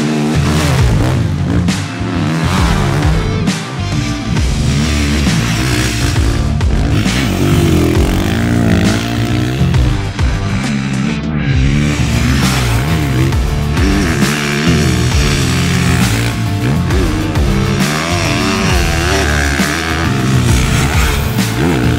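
Turbocharged KTM motocross dirt bike ridden out to warm up, its engine loud and close throughout, with rapid revving and repeated throttle blips rising and falling over a continuous buzzing drone.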